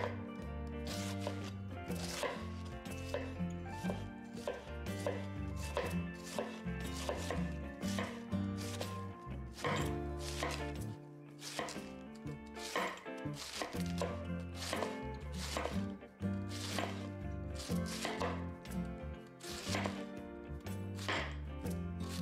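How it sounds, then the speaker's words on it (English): A knife thinly slices cabbage on a cutting board in a long run of quick, even chops, close and steady throughout with only one short pause. "Thinly slice the cabbage. Discard the cabbage core."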